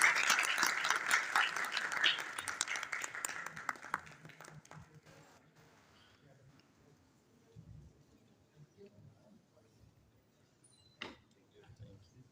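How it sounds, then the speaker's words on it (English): Audience applause for Ms. Shahnaz at a book review competition award ceremony at NED University in Pakistan, fairly strong clapping for about four seconds that thins into scattered claps and fades, leaving quiet room noise with a stray tap. "a big round of applause for Ms. Shahnaz?"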